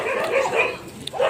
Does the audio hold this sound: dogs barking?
yes